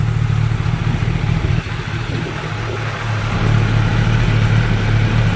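Kawasaki ZX-10R sport bike engine running on a dyno, a steady loud drone with a low rumbling hum that holds near-constant, swelling slightly louder toward the end.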